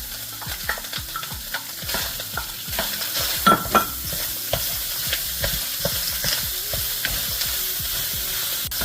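Browned ground meat with chopped onion and green peppers sizzling in a pan, stirred steadily with a spoon that scrapes in a loose, repeating rhythm, close and clear with no talking.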